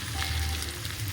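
Pieces of fish for an Andhra-style chapala pulusu cook in oil, giving a steady, soft, close sizzle with a faint crackle running unbroken throughout.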